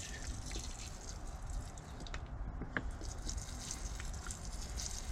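A small amount of water poured onto freshly potted dahlias, giving a soft, steady trickle and faint drips close by, with no voices.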